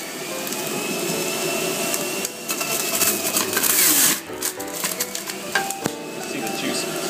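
A Breville BJE200XL 700-watt Juice Fountain whines loudly while carrots are fed in, its steady motor drone broken by grinding crunches and rattling bursts as the carrots are shredded.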